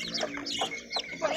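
A Filipino and Bangkok crossbreed hen with her chicks gives soft, high cheeps and clucks in a quick, uneven run, close but fairly quiet.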